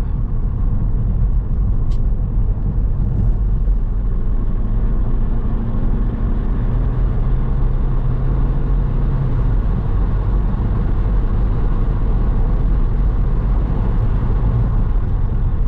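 Vauxhall Cavalier Diplomat with rusty brakes being driven, its steady engine and road rumble heard from inside the cabin, loud and continuous throughout with no talking.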